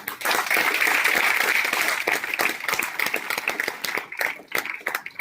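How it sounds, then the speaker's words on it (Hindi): Audience at a training seminar clapping for themselves: a loud, dense burst of applause that thins into scattered individual claps toward the end. "आप लोग अपने लिए एक ताली जोर से बजाएं"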